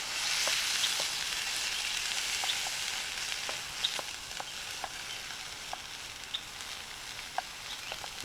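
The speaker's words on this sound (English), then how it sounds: "Okay, I'm frying up this ham." Ham frying in a pan for breakfast at Birch Grove Campground, a steady soft sizzle with scattered small pops and crackles throughout, close and fairly quiet with no talking.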